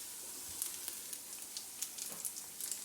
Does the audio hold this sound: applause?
no